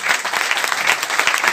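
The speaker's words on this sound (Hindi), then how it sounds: "ताली बजा दीजिए।" An audience at an RCM network marketing seminar applauds, a loud, dense burst of clapping from many hands close by, with no talking over it.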